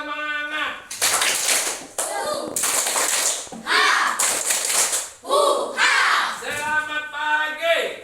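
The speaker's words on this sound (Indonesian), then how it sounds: "Jadi sebelumnya Bapak minta dulu tepuk semangat" Schoolchildren in a classroom do a rhythmic spirit clap, with bursts of group clapping alternating with chanted call-and-response voices, loud and close across the whole stretch.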